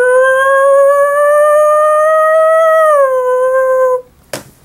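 A person's voice imitates a siren with a loud, steady wailing tone that dips slightly in pitch and cuts off, followed by a brief noisy burst.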